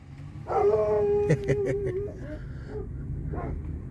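A dog howls loudly and close by, with a long drawn-out tone, then gives a few shorter barks and yips that fade into quieter whimpering.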